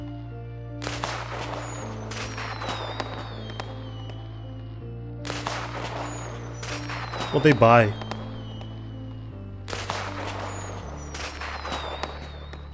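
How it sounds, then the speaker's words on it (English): A fireworks show in a Dreams fan-made horror game goes off over steady game music, with one sharp whistling burst standing out midway and a voice speaking briefly. "They just have a fireworks show with their money?"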